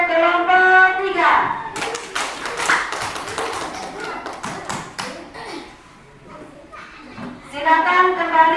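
Schoolchildren in a classroom clap for a presenting group, a dense burst of applause in the middle with scattered taps and claps under children's and a teacher's voices, which are heard speaking at the start and end.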